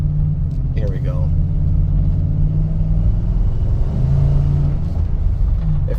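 A Nissan NV van with 150,000 miles on it is on the road, with a steady low engine and road rumble throughout and a faint voice briefly heard near the start.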